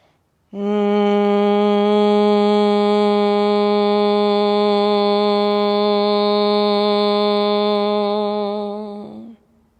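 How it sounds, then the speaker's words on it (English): Lower Brahmari humming breath in yoga: one steady, loud, low nasal hum held for about nine seconds through a full exhale, then fading and stopping, alone without talk. "So lower Brahmari will sound something like this"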